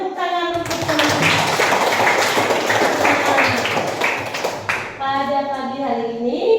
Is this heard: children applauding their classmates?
yes